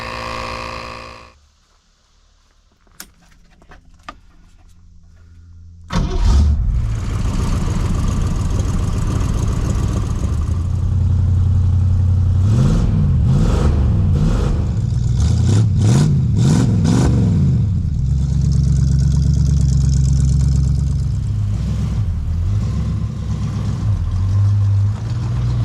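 A 1970.5 Ford Falcon engine cranks and catches after a few seconds of near silence, then runs loud and close, revving up and down repeatedly as the car drives off, with no talking.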